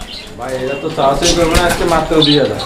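Pigeons kept for sale coo loudly and close by in throaty, warbling calls, with some wing flutter and people talking among them.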